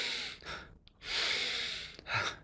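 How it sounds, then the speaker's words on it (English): Slow deep breaths drawn close to the mic in a guided breathwork exercise: a long airy inhale, a brief soft exhale, then another long inhale, the in-breaths noticeably longer than the out-breaths. "if you double the inhale time versus exhale"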